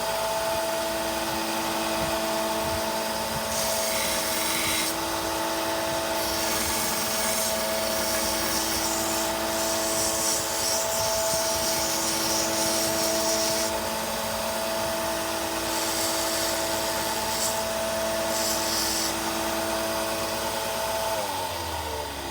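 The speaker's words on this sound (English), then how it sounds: "we're going to go ahead and sand it some more and get that mark out" A turquoise cabochon is sanded on a steady, continuous grinding machine, a constant motor whine with abrasive rubbing that swells and fades as the stone is pressed on, with no talk.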